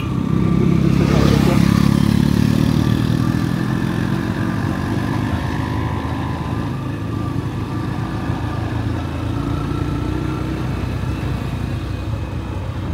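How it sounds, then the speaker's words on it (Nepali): Motorcycles ride past on a road on the way toward Tilicho, their engines droning loudly and continuously with one passing swell early on, heard nearby and without talk. "जताततै घरमा जताततै सबै बाइकमा आउँदैछन् मान्छेहरू पनि"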